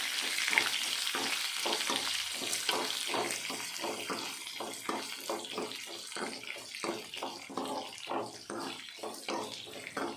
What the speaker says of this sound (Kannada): ಈರುಳ್ಳಿನ ಎಣ್ಣೆಯಲ್ಲಿ ಚೆನ್ನಾಗಿ ತಿರುಗಿಸ್ಕೊಂಡು ಫ್ರೈ ಮಾಡ್ಕೊಬೇಕಾಗುತ್ತೆ